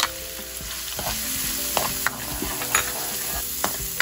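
Minced garlic and chopped onions sizzle in two tablespoons of olive oil in a pan for Filipino chicken adobo, a steady close fry broken by several sharp clinks and scrapes of stirring.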